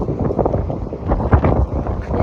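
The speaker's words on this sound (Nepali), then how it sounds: "कस्तो धेरै हावा चलेको हावाले त लास्टै गराइदियो भाइ" Strong gusty wind buffets the microphone outside the BAPS Hindu Mandir in Abu Dhabi, a loud continuous low rumble with surging peaks throughout.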